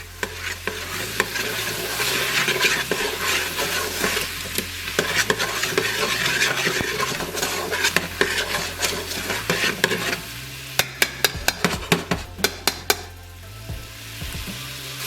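Garlic, about five cloves, sizzling in a pot while being stirred during beef bourguignon cooking; a steady loud fry runs throughout, with sharp utensil scrapes and clacks against the pot toward the end.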